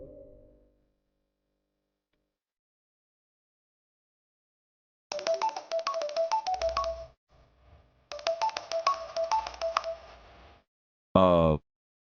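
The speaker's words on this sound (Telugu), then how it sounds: "ఇప్పుడే నీ ముందే ఫుడ్ ఇన్స్పెక్టర్కి ఫోన్ చేస్తా" A phone is dialed to call a food inspector: two runs of rapid keypad tones, separated by a pause, followed by a short burst of ringing or connection tones.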